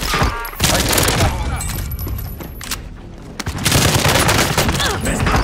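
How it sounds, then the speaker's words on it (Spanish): Heavy bursts of gunfire and booming impacts in Call of Duty: Modern Warfare, loud and close, with a brief lull in the middle before another sustained volley, voices faintly mixed in. "Me está disparando"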